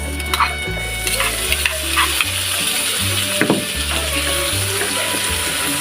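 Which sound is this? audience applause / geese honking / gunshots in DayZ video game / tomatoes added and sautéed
tomatoes added and sautéed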